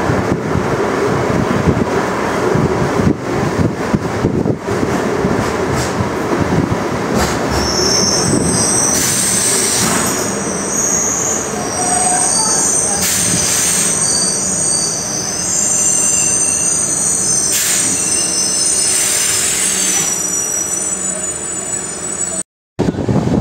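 A passenger train runs toward Kyathsandra railway station on the Bengaluru line, heard from on board as a loud continuous rumble with high, shrill wheel squeals rising and falling over the rails.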